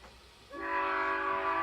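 A train horn sounds as a sound effect announcing the Casey Jones Express on a radio show. A steady, loud blast starts suddenly after a moment of quiet and holds, with no talking over it.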